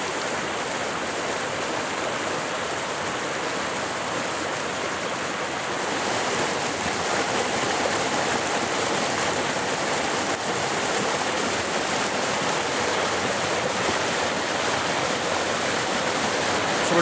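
A river rushes over boulders in a steady, close, loud roar of broadband water noise that swells slightly partway through, with no talking.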